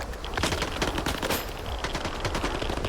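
Rapid, dense shotgun fire in S.T.A.L.K.E.R. 2: Heart of Chornobyl, a loud crackling barrage of close blasts with no pauses and no talk over it.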